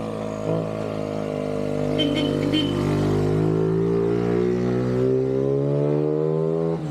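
A motorcycle engine climbing a steep winding road hums steadily with rising revs, close and fairly loud, with brief voices in the background.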